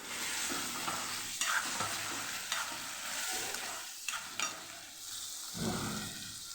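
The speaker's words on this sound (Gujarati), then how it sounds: "ટમેટા ઉમેરી દેવાના છે એ પણ સરસ મિક્સ કરી અને આપણે સાતડી લેવાના છે" Tomatoes sizzle steadily in a hot pan while a spoon stirs through them, with occasional scraping strokes, close and continuous.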